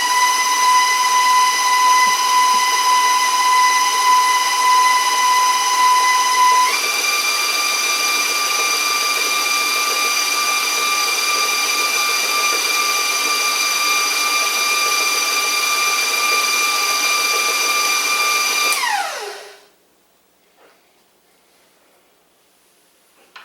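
An electric stand mixer whirs loudly and steadily as it mixes blueberry coffee cake batter, its motor pitch stepping up partway through, then winding down and stopping, leaving near silence.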